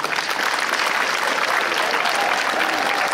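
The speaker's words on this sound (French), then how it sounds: "un gros applaudissement pour elle aussi" Sustained audience applause fills a French-language youth gathering in Bouaké, a dense steady wash of many hands clapping at constant loudness throughout, with no voices standing out.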